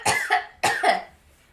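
Two harsh, close coughs in quick succession, each a sharp burst that trails off into a rasp before quiet.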